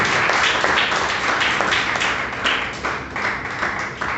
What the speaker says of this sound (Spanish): ¿Puedo darle fuerte de palmas al rey, mi hermano?